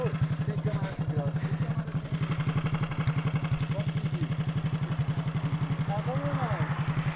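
A 96-model motorcycle's engine bangs out a rapid, steady rev-limiter rhythm close by, a continuous chugging pulse with voices talking faintly over it.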